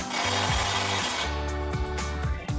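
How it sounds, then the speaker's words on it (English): Impact wrench with an 18mm socket tightening bolts on a Jeep Wrangler bumper: a loud, steady motor whine broken by repeated rattling hammer pulses and short dips in pitch, heard up close. "We're going to start with our 18mm bolts on our bumper. So we've got our 18mm socket on our impact."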